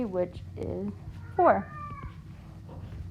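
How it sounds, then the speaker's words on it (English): A house cat meows several times in the background, short rising cries that stand out, while a person speaks nearby in a quiet indoor room. "In the background, if you can hear my cat meowing"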